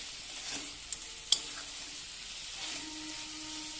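Sliced banana stem stirred as it fries in a pan, with a steady sizzle under the scraping motion and a couple of sharp utensil clicks against the pan.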